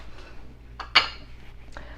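A utensil clinks against a bowl while flan mixture with condensed milk is being mixed, a few light scraping taps with one sharper clink near the middle, close and quiet.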